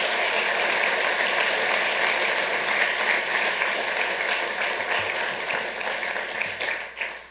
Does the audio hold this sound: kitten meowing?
no